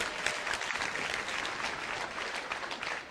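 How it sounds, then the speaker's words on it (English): Steady applause from an audience of educators at a talk on education, dense and sustained throughout without voices. "you guys deserve a round of applause for that"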